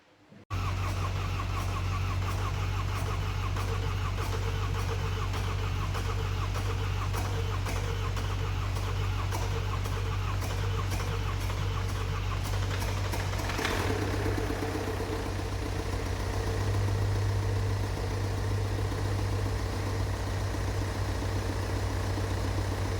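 A BMW MINI Cooper R56 engine, just refitted with its transmission after a new timing chain, runs at a steady idle from start to finish with a close, continuous mechanical hum and a light rattling ticking.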